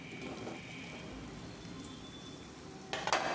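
Prawns frying in a pan make a soft, even sizzle at a low level, with a brief louder burst of spitting near the end; no one speaks.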